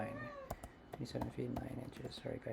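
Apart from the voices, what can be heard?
cat meowing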